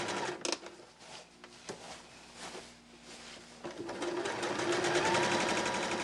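A sewing machine stitches around a fabric bag, its needle whirring in a fast even patter that steadies and grows louder in the second half after a few quieter bursts and handling knocks.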